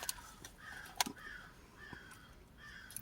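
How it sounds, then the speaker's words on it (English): Several crows caw outdoors at mid distance, a few separate harsh calls spaced across a few seconds against quiet background ambience. "I hear the crows. I don't see them, but I hear them."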